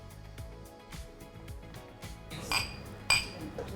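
Glasses clink faintly while Laphroaig whisky is poured at a gathering, with several light chimes, two brighter clinks standing out near the end, over soft room noise.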